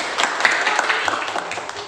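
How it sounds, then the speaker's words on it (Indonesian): Applause from a church congregation in Indonesia, a steady wash of clapping hands of moderate loudness lasting the whole moment with no talk over it. "Beri tepuk tangan saya"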